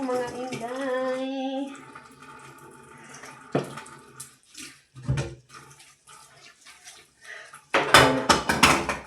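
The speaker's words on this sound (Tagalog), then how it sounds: "Hugas tayo ng plato" Plates being washed in a sink: water runs and splashes while dishes clatter and knock in irregular bursts, with a voice talking at the start and a louder stretch of splashing near the end.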